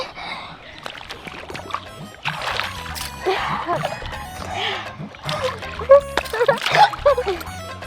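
Women bathe in open water, dunking and splashing in irregular bursts close by while they talk and call to each other throughout.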